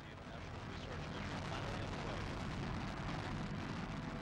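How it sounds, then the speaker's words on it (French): Space Shuttle Columbia lifts off from its launch pad, a continuous, heavy, broadband rocket roar that stays loud and rumbling throughout. "la navette Columbia décolle de son pas de tir"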